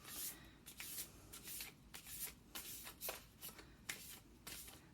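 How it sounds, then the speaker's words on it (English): Large tarot cards being shuffled by hand, a soft, close, repeated riffling and sliding in quick uneven bursts, fairly quiet and without talk. "These are hard to shuffle."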